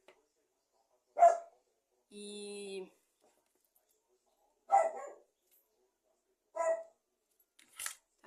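A dog barks in a few separate loud bursts spaced seconds apart, close by and mostly alone, with a brief tonal squeal between the first barks and a short sharp yelp near the end.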